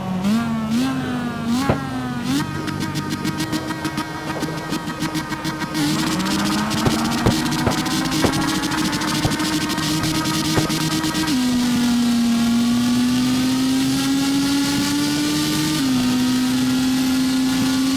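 Rotary-engined Mazda RX7 drag car in CarX Drift Racing Online screams through the gears, a loud sustained engine whine climbing in pitch with brief drops at each shift, steady and close for the whole run.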